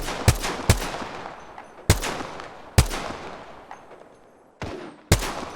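Sharp, loud gunshots from Apex Legends, including a Triple Take rifle, crack out about six times at uneven intervals. Each leaves a long decaying echo, and there is no speech.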